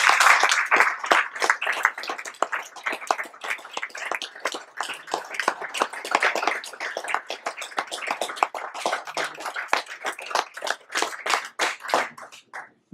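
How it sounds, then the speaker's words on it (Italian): Audience applause at a conference, a crowd clapping with loud, dense hand claps that run steadily throughout and thin out slightly toward the end, with no voices. "Quindi penso che il grande applauso ci sia tutto."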